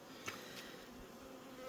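Honeybees buzz steadily at an open hive during an autumn inspection of colonies with young queens, a faint continuous drone with a few brief louder passes close by.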